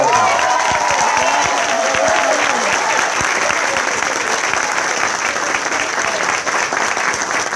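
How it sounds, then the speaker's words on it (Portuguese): An audience claps loudly and steadily for its full length, a dense, even roar of applause. A voice and faint cheering can be made out near the start. "você merece o nosso aplauso"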